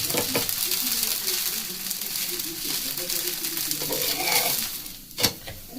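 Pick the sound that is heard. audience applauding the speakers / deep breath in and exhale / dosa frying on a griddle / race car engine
dosa frying on a griddle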